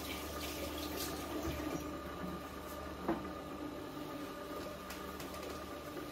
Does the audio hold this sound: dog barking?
no